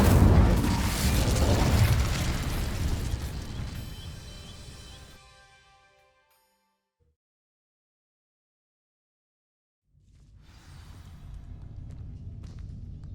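In Hogwarts Legacy, an Incendio fire spell sets dry vines ablaze with a loud whooshing burst of flame that roars, then fades into silence for several seconds before a low rumbling ambience returns.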